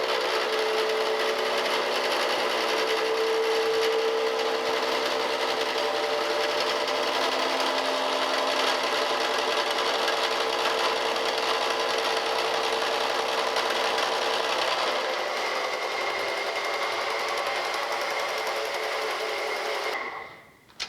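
A machine tool makes its final cutting pass on a keyway in the reversing gear of a steam locomotive, a steady loud whirring drone with a constant pitch that continues for about twenty seconds before stopping abruptly.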